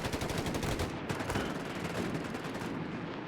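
Dense, continuous MP40 submachine gun fire rattles through a Company of Heroes 3 battle between German Grenadier squads and US forces, loud and sustained with overlapping bursts and no pauses.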